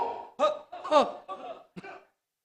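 A short series of coughs and throat-clearing bursts, close and fairly loud, several in quick succession.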